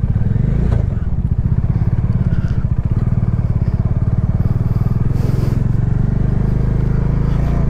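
A motorcycle climbs a rough mountain road in North Sikkim with a loud, close, steady engine throb. Clattering and scraping from the rugged surface run under it throughout.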